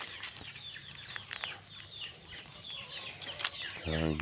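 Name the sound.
native chickens clucking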